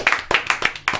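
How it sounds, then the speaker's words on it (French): A few people clap in a loose, uneven rhythm at a casual French talk-show gathering. There are about six close, sharp bursts in one second, loud and with no voices. "On applaudit."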